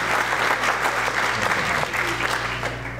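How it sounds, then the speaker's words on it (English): Audience at a school district leadership retreat morning session applauds steadily and fairly loudly for about three seconds, a dense even wash of clapping with no pauses. "Round of applause, please, for these people."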